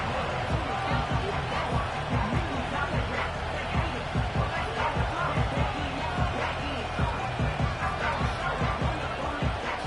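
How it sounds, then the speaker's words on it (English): A Wembley stadium crowd in a Madden football game keeps up a broad, constant roar with rhythmic low thumps, moderately loud and steady throughout. "Big crowd on hand."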